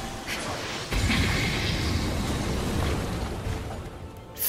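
Booming explosions and blasts from the video game Fate/Samurai Remnant during a Noble Phantasm attack, a sustained loud rumbling roar after a sudden onset, with no talk over it.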